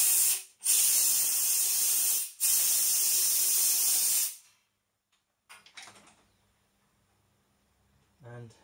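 Cleaner sprays in two long, loud, close hissing bursts onto a brass Acme nut being threaded at 5 tpi in a Harrison mill lathe. Faint handling clicks and a brief knock follow in quiet.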